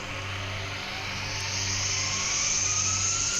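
A UFO craft in the Indian Bikes Driving 3D video game gives off a steady, loud droning engine hum with a rising high whine, continuous and alone for the whole stretch.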